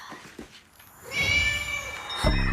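A cat in a Korean drama gives a drawn-out, close meow that swells mid-clip and ends with a soft thump, with little else around it.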